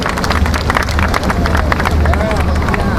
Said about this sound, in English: give those guys another big round of applause